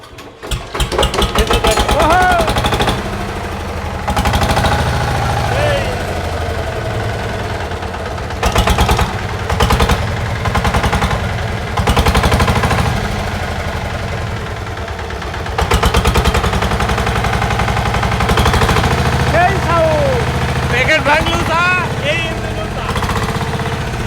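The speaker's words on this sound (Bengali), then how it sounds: "সাংসাই বিশ ঘোড়া ইঞ্জিন সাউন্ডটা শুধু শোনেন একটু দেখেন ইঞ্জিনটা" An old 20 hp Sifang diesel engine, reconditioned, runs loud and close with a hard rapid knocking chug, dropping out briefly a few times and resuming, while people talk near it.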